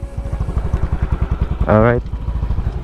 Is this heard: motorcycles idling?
yes